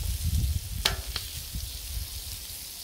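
Cajun shrimp sizzle on a hot Blackstone griddle, a steady close hiss of frying with a couple of sharp scraping or tapping clicks from a utensil, and no talking.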